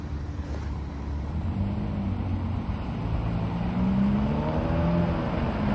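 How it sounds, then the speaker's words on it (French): A Ferrari 812 Superfast idles at a red light on a Paris street, a steady low engine rumble that swells slightly toward the end, with faint surrounding traffic. "Arrêté au feu rouge, petite Ferrari 812 Superfast."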